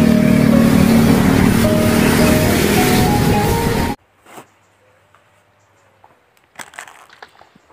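A toy bus gives off a loud, harsh, rumbling engine-like noise with a faint tonal whine for about four seconds. It then cuts to near silence broken by a few soft knocks and rattles.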